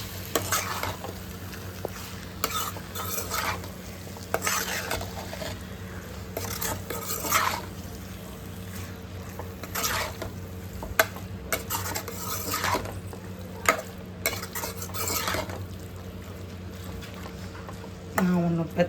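Half a kilo of chicken is stirred and mixed in a sizzling pan, with repeated scraping strokes of a utensil against the metal over a constant fry, and a voice talks at times in the background.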